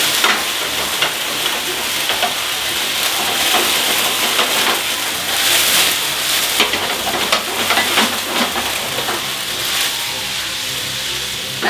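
Duck frying in a hot pan on a lowered flame while being basted, a loud, continuous sizzle and spatter with scraping stirs throughout, no voices.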